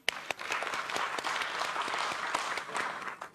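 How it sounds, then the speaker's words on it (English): A crowd at a stock exchange listing ceremony for Metro Brands breaks into sustained applause, dense clapping with scattered louder individual claps throughout. "let's have a huge round of applause"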